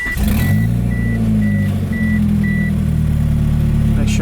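A Mitsubishi Eclipse with a turbocharged 4G63 engine pulls off for a test drive, its loud, steady engine drone dipping and rising through gear changes, with a regular reversing-style beep chiming repeatedly over it.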